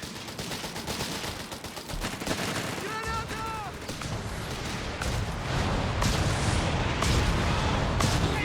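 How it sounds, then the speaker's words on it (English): Rocket artillery barrage in Company of Heroes 3, a dense continuous roar of rapid rocket launches and blasts, loud and sustained, with a voice talking over it. "Unleashing its rockets here, catching the British advance and completely severing it."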